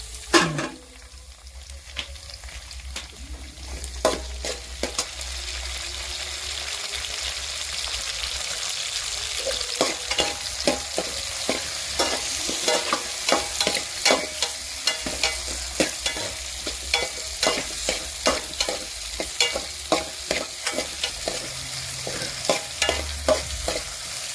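Onion and tomato sautéing in a pan for a Kerala-style okra curry, with a steady sizzle and repeated scraping stirs that come in quick, regular strokes. It is close and moderately loud, and no one talks.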